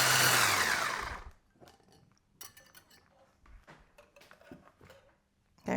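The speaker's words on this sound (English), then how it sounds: "which is just my electric whisk" An electric whisk beats egg whites in a bowl, a loud steady whirring buzz that runs for about a second before cutting off, followed by quieter clinks and kitchen handling noises.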